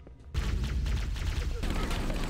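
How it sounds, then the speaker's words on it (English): Dense, continuous bursts of explosions and gunfire in the video game Halo crackle in a loud, unbroken barrage after a brief quiet start, with some voice mixed in. "So many explosions."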